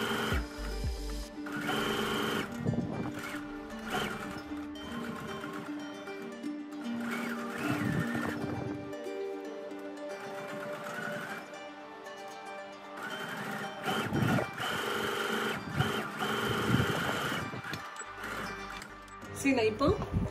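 A sewing machine runs in bursts while top stitching the faced neckline of a 34-inch blouse, a steady whirring hum that starts and stops with short pauses and sits under soft background music.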